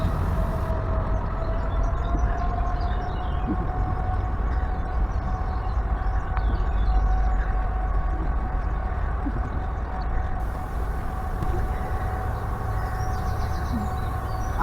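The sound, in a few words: train on a railway line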